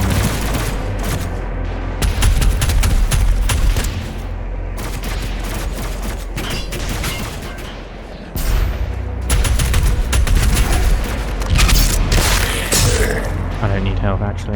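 Gunfire in DOOM Eternal on Nightmare difficulty, a dense, loud barrage of shots and heavy booms that runs continuously with thumping impacts, while a voice talks over the combat.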